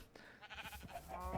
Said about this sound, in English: Also, yes, I have pink sheep. Behold them in their glory.